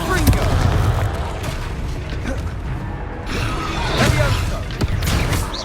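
Confringo blasting spell explosions in the video game Hogwarts Legacy, loud booming blasts and crashing impacts over dense combat noise, with a voice shouting briefly amid the fight.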